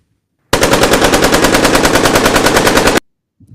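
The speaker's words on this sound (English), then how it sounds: "I've got the AK" An AK assault rifle in a video game fires one loud, unbroken burst of rapid automatic shots for about two and a half seconds, then stops abruptly.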